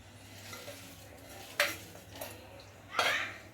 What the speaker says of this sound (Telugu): పోపు అయితే ఇందులో వేసేస్తున్నాను